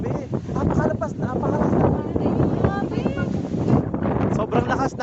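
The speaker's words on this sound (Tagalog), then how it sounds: "sobrang lakas ng hangin guys." Strong wind buffets the microphone on Bonuan beach at night, a loud continuous roar with gusts, while voices talk throughout.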